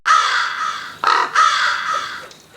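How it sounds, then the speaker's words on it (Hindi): Crows caw loudly and close by in a sound effect, giving three harsh, drawn-out calls in quick succession with a brief gap between the first and second. "कौवे चीखेंगे"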